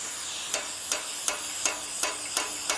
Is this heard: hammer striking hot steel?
yes